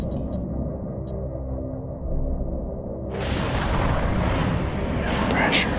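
A bomb launch in a video game sets off a heavy roaring blast about halfway through that stays loud and sustained to the end, following a rumbling background with voices chatting faintly.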